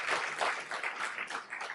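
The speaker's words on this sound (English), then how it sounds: "Applauding people, where are your manners?" Brief, faint burst of audience applause at a startup event, a dense wash of many hands clapping at a distance, steady for under two seconds.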